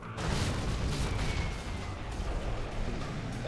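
A bomb strike in C&C Generals Zero Hour, a sustained heavy rumbling roar of explosions lasting several seconds, loud and broad without distinct separate blasts.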